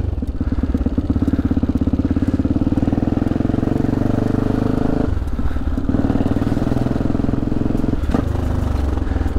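A motorcycle engine runs close and loud with a steady, pulsing rumble, its rhythm dipping briefly twice as if the throttle eases off before settling back.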